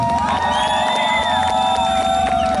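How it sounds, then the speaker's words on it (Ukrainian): Spectators at a Neptune Day bike festival cheer for the third contestant with a steady, loud crowd roar of shouts and whistles that holds for a few seconds without letting up. "Номер три аплодисменти."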